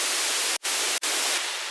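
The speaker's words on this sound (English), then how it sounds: "It's just a white noise" Steady broadband white noise layer from an Operator synthesizer in a hybrid trap drop, loud and continuous with two brief dropouts, alone without talk.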